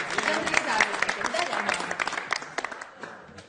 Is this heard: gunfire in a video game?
no